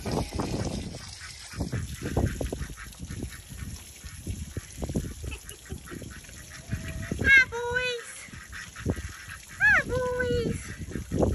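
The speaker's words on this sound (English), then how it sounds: "Ducks are going crazy." Ducks and geese on a snowy, icy farmyard honk and quack in clustered calls, fairly close, while people talk loudly throughout.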